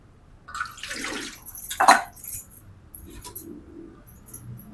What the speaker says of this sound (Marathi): कालवण वाढण्यासाठी थोडं पाणी टाकलं